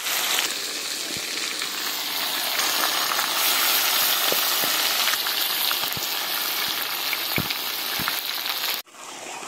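Marinated chicken pieces frying in a kadai with whole garam masala, bay leaves and cumin seeds for biryani. A loud, constant sizzle with scattered crackles and pops runs throughout, then cuts off abruptly just before the end.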